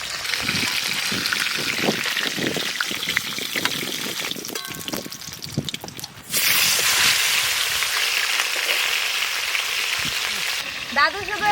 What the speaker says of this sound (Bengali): পপি, আমি এগুলো ধুয়ে নিয়ে আসছি।